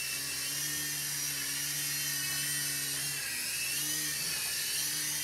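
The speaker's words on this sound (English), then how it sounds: "Gotta get used to flying the old heli here." A UDI RC U12S WiFi FPV toy helicopter flies nearby, its small rotor and motor giving a constant high-pitched whining buzz with slight wavering in pitch, loud and steady without speech.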